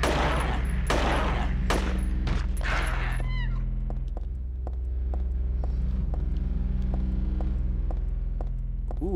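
Gunfire in the Silent Hill 3 video game: a few loud shots in quick succession at the start, followed by quieter clicks and game effects over a constant low background hum.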